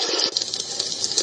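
A small speaker in a bedside lamp plays a compressed, hissy water sound, a steady, bright wash of noise with faint splashy flickers through it over about a second.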